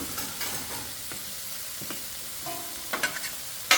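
Two cups of cooked Minute Maid rice sizzle and fry steadily in a hot pan for hibachi-style fried rice, with a few soft stirring scrapes and clinks near the end and no talking.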